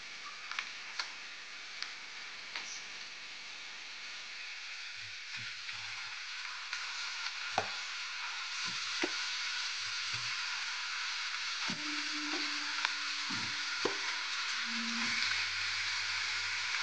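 Chicken pieces sizzling in a pan with softened onion and garlic, a quiet continuous crackle and hiss with scattered sharp pops and clicks of utensils, close and alone.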